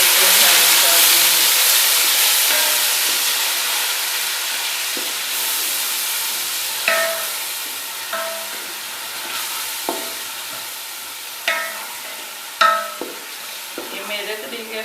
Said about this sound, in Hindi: अब इसमें मैं ये अपने टमाटर और सब्ज़ मिर्च शामिल कर दूँगी।